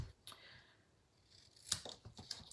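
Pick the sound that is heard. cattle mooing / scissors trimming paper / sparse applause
scissors trimming paper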